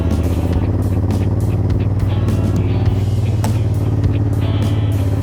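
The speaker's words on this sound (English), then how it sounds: "Oh, this is gonna be tough for the car." A car engine labors up a steep hill road past rice fields in West Java, a loud continuous drone with steady revving, close and constant with small knocks and rattles.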